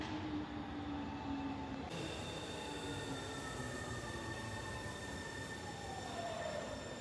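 Tobu Railway train, likely a 30000 series on the Tobu Tojo Line, rolling past with steady rumble, rising and falling tonal whines and faint wheel squeal, heard continuously at moderate distance with no talking.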